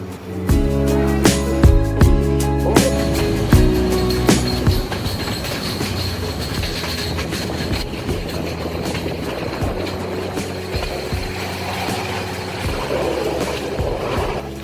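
Train at Nanuoya Railway Station in Sri Lanka's central highland hill country, rolling close by with heavy rumble, rhythmic clickety-clack of wheels over rail joints and occasional metallic squeals, loudest early and then steady.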